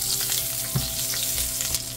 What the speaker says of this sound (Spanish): Y estaré poniendo cebolla para aromatizar nuestra manteca.